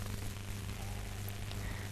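Heavy rain pours steadily over the city of Indore, a constant dense hiss of water on surfaces with no break, fairly soft in level and heard alone.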